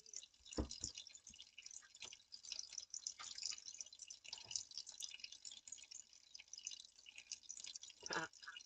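Water runs and drips at a tap while Arkansas crystals are being cleaned. Irregular splashes and droplets patter close by over a faint hiss of flow.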